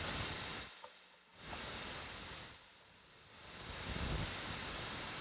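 An Apollo/Shin-Ei Surf Wah guitar pedal's surf effect: hissing, whooshing noise that swells and recedes in slow waves, like distant breakers rolling in.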